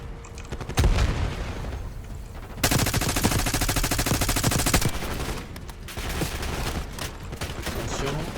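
Black Ops 6 campaign combat with a grenade blast and dense gunfire, loud and close, with rapid automatic bursts continuing throughout.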